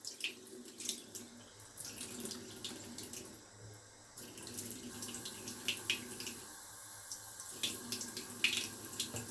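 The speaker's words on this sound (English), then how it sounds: "I'll splash my face a little bit with some warm water." A faucet runs steadily into a sink while warm water is splashed onto a face in quick, repeated handfuls, close by.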